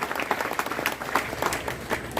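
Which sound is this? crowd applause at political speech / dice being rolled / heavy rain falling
crowd applause at political speech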